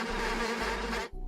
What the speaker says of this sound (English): it sounds like a bunch of bees